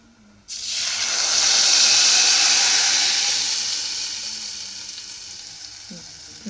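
Dry chilli masala drops into hot oil and erupts into a loud, close sizzle that swells, then slowly fades into a steady hiss, with a small clatter near the end.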